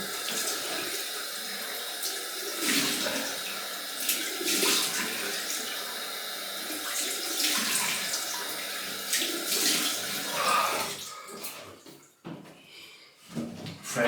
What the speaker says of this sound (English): Cold water in.